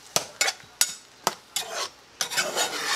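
Eggs being stirred with apple cactus flowers in a pan, a series of sharp scraping strokes at an irregular pace with a soft sizzle beneath, close and moderately loud, no voices.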